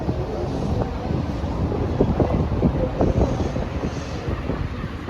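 Cold wind blowing outdoors on a winter day in Paris, buffeting the microphone with a steady, loud, low roar that never lets up for the whole stretch.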